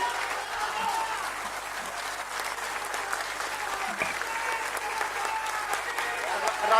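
An audience applauds during a political speech by an NCP leader in Pimpri Chinchwad, a sustained, even burst of clapping from a crowd that holds steady and swells slightly at the end.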